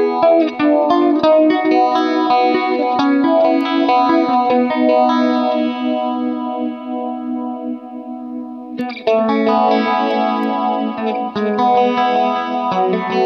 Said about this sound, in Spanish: Vamos a ponerle un sonido más crunchy.